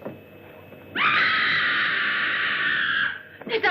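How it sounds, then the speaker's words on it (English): A long, loud, high-pitched scream in a 1960 black-and-white horror film. It is held steadily for about two seconds over a low background hum, then cuts off, and a short burst of further sound follows. "That was a scream."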